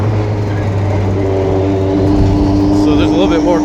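A rebuilt car engine holds a loud, steady drone with pops and crackles off boost on track, the tone shifting slightly toward the end.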